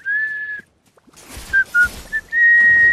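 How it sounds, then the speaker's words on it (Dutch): Clear, close melodic whistling in short bursts: a sustained opening note, a pause, then a few quick chirped notes before a longer held tone, loud and alone during a Fortnite match. "Oh my god, die kan zo fantastisch fluiten."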